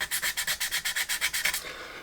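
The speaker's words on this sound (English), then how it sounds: "It's got that kind of white powdery texture to it, and I don't know how good a conductor that is, so just rubbing it away with some rough" A rough abrasive is rubbed back and forth over a gramophone chassis to remove oxidised zinc or nickel plating, making a brisk, regular scraping rhythm of about a dozen close strokes that tapers off, with no talking.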